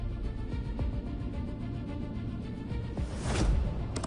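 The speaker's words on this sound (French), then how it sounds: "la turbine aspire la poussière qui est emprisonnée dans un sac à micropores." The turbine of a Henry vacuum cleaner runs at full power, drawing dust into a micropore bag. It gives a steady, quiet, broad rushing hum that swells briefly near the end.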